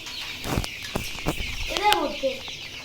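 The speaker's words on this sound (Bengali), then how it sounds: "এদের মধ্যে মুরগিগুলো দেখুন।" Chickens cluck in a village yard in a few short bursts, with a rooster-like call near the end, fairly close by, while a person talks over the birds.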